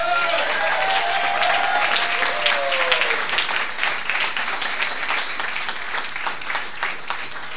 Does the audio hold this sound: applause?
yes